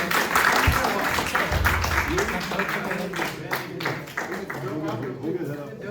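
Audience applause for a prize winner at a school awards ceremony: a crowd claps steadily throughout while voices talk and murmur over it, the clapping fairly close and mixed with room noise.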